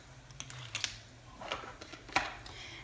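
A knife minces fennel seeds on a cutting board in a handful of quiet, sharp taps and chops scattered across a soft, hushed background.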